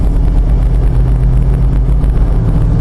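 An LS-swapped Jeep JK accelerates under throttle, its engine a loud, steady low drone that holds without rising in pitch for the whole stretch, with wind rush over it.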